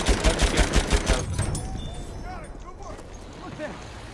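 Rapid bursts of gunfire in the first-person shooter Battlefield 1, a quick run of loud evenly spaced shots up front that give way to scattered battle noise and a player's voice talking over it.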